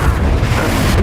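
Confringo spell blast from Hogwarts Legacy, a loud, dense booming burst with a heavy low rumble filling the whole moment, no speech over it.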